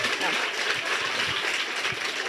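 Lecture-hall audience applause, a dense sustained patter of many hands clapping at steady loudness for a couple of seconds, with no voice over it.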